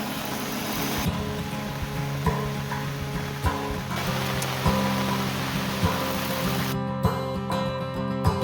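Steady rain falls on a campsite in the Delaware Water Gap area in August, a continuous patter with faint distant vehicle hum, soft intermittent drips and taps, and no talking.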